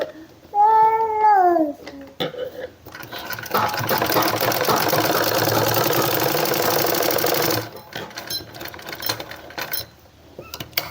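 Electric sewing machine running a straight seam on a women's shirt, a fast even mechanical rattle for several seconds in the middle, with short bursts of voice-like sound and lighter handling noise before and after.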